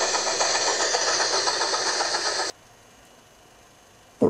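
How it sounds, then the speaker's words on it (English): The little blue steam engine chuffs fast as a hissy, steady rush for a couple of seconds, then stops dead into near silence before a short burst returns at the very end. "Tillie was chuffing very fast, following the line to some place she never seen before."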